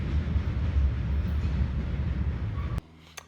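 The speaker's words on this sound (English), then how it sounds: "Good sized train." A freight train rumbles past close by with a steady low roar and rolling rattle, cutting off abruptly near the end to quiet with a faint click.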